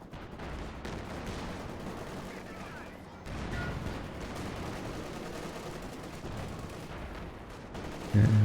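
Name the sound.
US strafing run gunfire, from a video game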